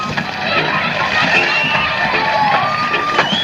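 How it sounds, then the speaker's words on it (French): Studio audience at a French television show applauding and cheering, a dense wash of clapping and crowd noise, with a voice also audible. "je vous demande d'applaudir très très très très fort"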